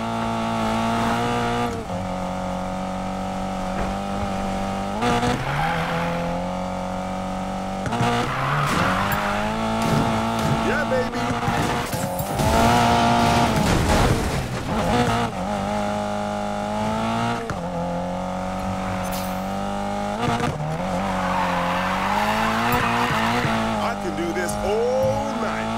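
A car in Need for Speed Payback drifts with long tire squeals over a revving, shifting engine, loud and close, while people talk over it.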